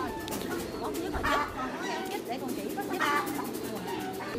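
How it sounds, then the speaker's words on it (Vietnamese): Pigeon coos in soft repeated phrases, the bird kept indoors with a crop impaction, heard close and steady against a busy background with people talking. "con chim bồ câu này"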